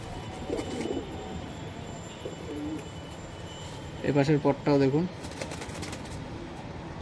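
A male Pakistani highflyer pigeon of the Teddy Kamagar type gives a close, rhythmic run of throaty coos, about a second long, partway through. Someone talks quietly before and after it.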